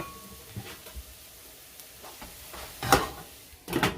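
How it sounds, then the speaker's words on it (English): Chopped scallion and jalapeno pepper saute in a pan, giving a soft continuous sizzle broken by a few sharp scraping stirs near the end. "some scallion, or you guys might know it as green onion, and also some jalapeno pepper. And I'm gonna let this saute"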